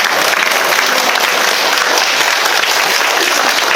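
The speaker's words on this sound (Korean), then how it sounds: "하나님께 영광의 박수 올려드립시다" Church congregation applauding in praise, a dense, loud, sustained wash of many hands clapping together with no break, filling the whole space.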